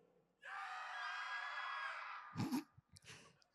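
A single long scream played as a sound effect cue at a cosplay masquerade stage event rises and sustains for about two seconds, followed by brief breathy bursts; moderately loud over a quiet hall.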